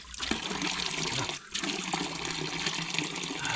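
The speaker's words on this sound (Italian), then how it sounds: "Ad una fontana dove ci riempiamo acqua potabile" Icy drinking water gushes steadily from a village fountain in Ferrera Moncenisio, a loud, close, continuous rush broken only by a brief dip in the flow midway.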